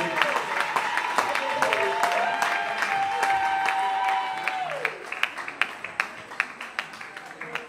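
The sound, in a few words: applause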